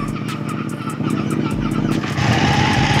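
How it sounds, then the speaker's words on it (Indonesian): A Ducati Panigale 1199 motorcycle idles close by with a deep, lumpy, pulsing exhaust rumble, the beat quickening slightly as the engine settles after starting. "sekarang gue nyalahin Panigale 1199"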